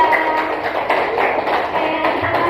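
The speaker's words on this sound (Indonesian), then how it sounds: "tepuk tangan untuk kelompok 3" A classroom of primary school pupils applauds a student group, a dense steady patter of many hands clapping together throughout, fairly close and loud with no talk.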